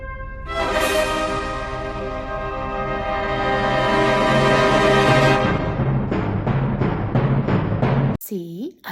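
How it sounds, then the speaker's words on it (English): Opening of Richard Strauss's tone poem Also sprach Zarathustra: a long sustained orchestral swell that grows louder, then repeated heavy timpani-like strokes, cut off abruptly by a short final sound. "His most famous tone poem is based on a philosophical book by Friedrich Nietzsche called Also sprach Zarathustra."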